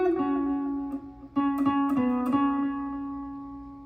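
Electric guitar playing a short phrase from a song: a few clear picked notes ringing over a sustained tone, close and fairly quiet, with no talking.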